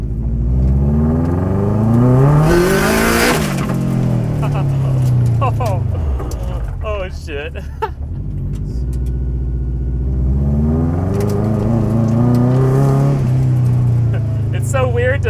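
Subaru car accelerating hard with wheel spin, engine note rising in two surging revving sweeps close by, with a person talking over it.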